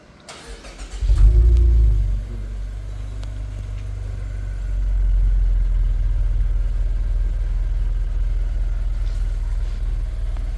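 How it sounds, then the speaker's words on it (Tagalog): A 2024 Mazda 3 fitted with an HKS legal muffler exhaust and carbon fiber tip starts up, with a brief crank rising into a loud, steady low idle that holds close by. "Installed already the exhaust. Start the engine, boss."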